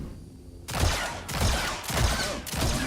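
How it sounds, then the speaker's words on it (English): Four loud, heavy blasts from a pistol fired in Star Wars Jedi: Survivor, spaced roughly half a second apart, each a sharp booming burst with a ringing tail, no talk over them. "Press triangle to fire your pistol"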